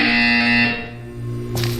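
A loud electronic buzzer tone from the video game Portal 2 holds for under a second, then fades into a quieter hum before a brief burst of noise.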